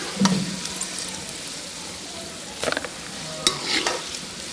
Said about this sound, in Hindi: इसको लाइट ब्राउन होने तक हम फ्राई करेंगे।